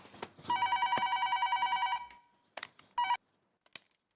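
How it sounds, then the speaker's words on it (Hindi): An indoor telephone bell rings in a rapid warbling trill for about a second and a half, pauses, then gives a shorter second ring, fairly soft. "फोन आया।"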